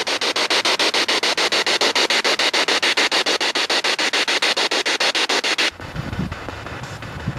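Static from a spirit box scanning during a ghost hunt in Bucksport, a loud harsh hiss chopped into fast, regular pulses that stop abruptly, leaving a lower, rougher noise.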